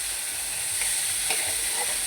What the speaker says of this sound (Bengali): টমেটো পেস্ট সব দিয়ে লাড়াচাড়া করে মশলা ভাজা হয়ে গেছে।